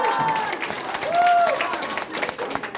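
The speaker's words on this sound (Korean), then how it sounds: "힘찬 박수로 환영해 주시기 바랍니다." Crowd applause welcoming a speaker at a political candidate's press conference, sustained clapping from a gathered audience with some cheering voices mixed in.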